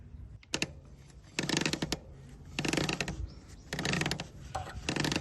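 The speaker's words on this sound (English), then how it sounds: "always turn the wheel backwards so the chain always moves away from the sprocket." A Triumph Bonneville motorcycle chain is turned backwards over its sprocket, giving four separate bursts of rapid metallic clicking and rattling, close and fairly quiet, with short pauses between them.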